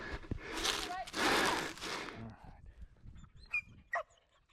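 A dog working at a scent-search exercise pants and snuffles loudly at close range, then gives a few short whimpering yelps. A person's voice is mixed in.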